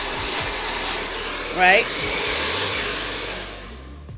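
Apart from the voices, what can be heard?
blow dryer drying a hair piece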